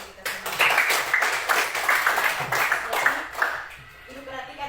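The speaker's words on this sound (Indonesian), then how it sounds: "tepuk tangan untuk kita semua" Students clapping together in a classroom, a burst of quick uneven hand claps at close range that tapers off after a few seconds.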